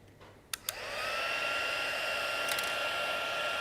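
A hair dryer clicks on with a couple of sharp switch snaps, then spins up into a steady, loud blowing roar over textured paint, continuing without a break.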